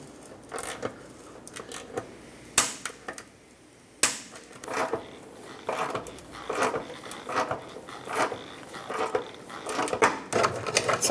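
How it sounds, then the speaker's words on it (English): Ratchet with an 8mm socket working rusty bolts loose on a Ford F-150 fog light, a close series of uneven clicks, creaks and sharp metallic cracks with short pauses between bursts. "take an 8mm socket, and there are 3 bolts up top that need to be removed"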